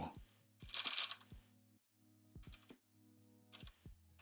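Computer keyboard typing during a Rust and Godot game programming session comes in short clustered bursts of clicks separated by pauses. The clicks are fairly close and moderately quiet.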